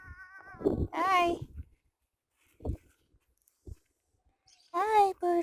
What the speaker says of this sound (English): The cat wants to join me.